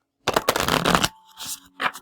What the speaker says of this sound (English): Oh, I need to shuffle.